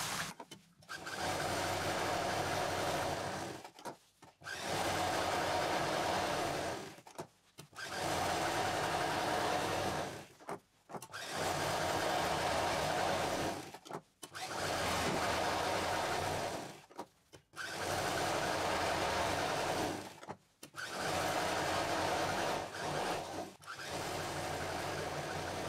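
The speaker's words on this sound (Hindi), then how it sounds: "बीच की सिलाई को छोड़ते हुए एक चाप इधर से मशीन पूरे में चला देंगे।" Sewing machine quilting a bag sewn from leftover fabric, running in long steady bursts of several seconds each with brief pauses between, a loud continuous whirring hum repeated about seven times.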